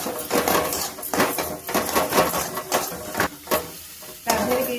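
Masala being stirred and sautéed in a pan with tomatoes, ground cumin, ground coriander and chicken curry powder, giving close, steady sizzling broken by repeated scraping strokes of a spoon against the pan.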